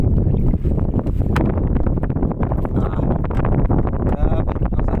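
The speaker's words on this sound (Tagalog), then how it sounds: "Grabe, lakas ang hangin." Strong wind on a river during a fishing boat trip, a loud, constant roaring buffet of wind across the microphone throughout, with no clear speech.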